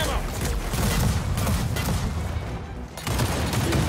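Rapid flak gunfire from a tank combat video game, a dense continuous barrage of loud bursts, with a brief dip near the end before the firing resumes.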